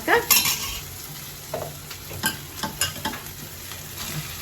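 Onions, green chillies and ginger frying in a pan as chicken is stirred in for a curry, with a steady sizzle broken by irregular spoon scrapes and clanks against the pan.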